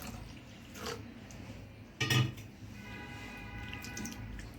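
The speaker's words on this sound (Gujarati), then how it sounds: "એટલે આપણે થોડુંક હજુ પાણી નાખશું" A short splash of water poured into a bowl of fenugreek seeds, with faint drips and gentle handling around it.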